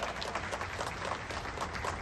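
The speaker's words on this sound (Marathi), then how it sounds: "सगळ्यांनी सर्वप्रथम यांच्यासाठी एक जोरदार टाळ्या" Crowd applause at an election rally in Raigad, a brief, faint patter of many hands clapping heard from a distance, with no speech over it.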